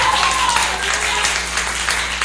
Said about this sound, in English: Another hand clap for our first time visitor.